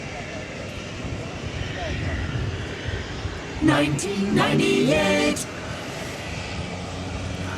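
A United Airlines jet, a 1998-built plane in current livery, rumbles with a broad steady engine roar at DFW Airport, while a person speaks over it in the middle of the stretch.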